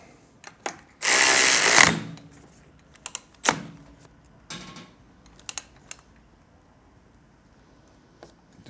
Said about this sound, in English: we can tighten these nuts on the bottom. Use our 17mm